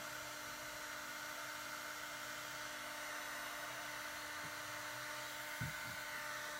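A heat gun blows steadily while a piece of PVC plastic is rotated and softened for a kayak crate, a constant airy whir with a couple of faint low knocks near the end.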